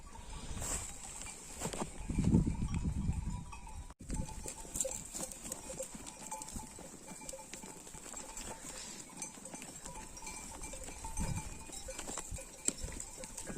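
A flock of sheep on a mountain pasture shuffles and moves, with scattered hoof patter, rustling and faint animal calls in open outdoor ambience and a brief thump partway through.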